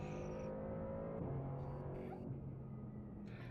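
A Mercedes-AMG GT4 race car drives in the rain during early testing for the Nürburgring 24-hour race, its engine droning steadily from inside the car with shifting pitch and a faint background rumble.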